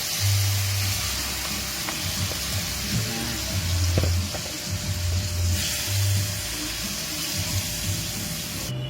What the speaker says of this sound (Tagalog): Kaya yung ating binabad na pork, ano ba? Lagay na natin lahat.